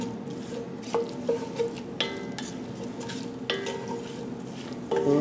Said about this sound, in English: We're going to just stir it in.